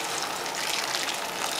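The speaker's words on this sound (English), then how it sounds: "I'll get some boiling water, and I'll just pour it over" Boiling water pours in a steady rushing gush over squeezed bitter melon in a bowl, close and continuous, with no talk.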